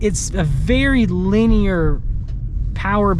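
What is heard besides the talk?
No everyday noise stands out behind the speech.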